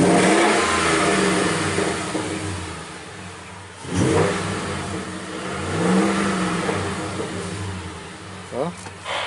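A 2011 Ford F-150 FX4 V8 fitted with a Spectre 9976 cold air intake revs in a few throaty surges that rise and fall close by, over a steady idle rumble, with someone speaking briefly.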